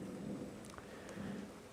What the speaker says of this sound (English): Nice rolling rain, thunder.